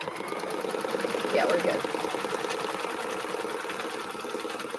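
An embroidery machine stitches a template in the hoop with a steady, rapid mechanical whir and clatter throughout, while a person speaks briefly over it.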